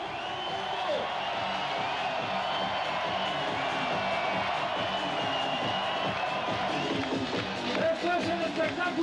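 A huge crowd of more than 100,000 people packs Las Canteras beach on San Juan night awaiting the arrival of the U.D. Las Palmas team, a dense roar of cheering, whoops and babble holding steady and swelling near the end.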